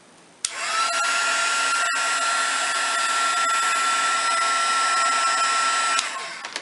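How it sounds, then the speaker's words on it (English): A craft heat tool blows steadily to melt embossing powder on a brad, switching on sharply, running as a loud even whine with a high tone for about five seconds, then cutting off. "we're going to go ahead and zap this with a heat tool real quick"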